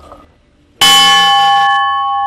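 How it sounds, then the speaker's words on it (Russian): A single loud strike of a ship's bell rings out after a quiet moment, its bright metallic tone sustaining and slowly decaying. "даже ударить в корабельный колокол"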